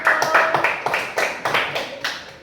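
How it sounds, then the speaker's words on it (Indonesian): School students clap for a group in a classroom, a short burst of about eight to ten separate, fairly near claps in an uneven rhythm. "Tepuk tangan untuk kelompok 1."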